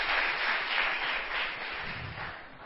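Congregation applauding in a church service, a continuous wash of clapping that fades gradually over a few seconds, close and fairly loud.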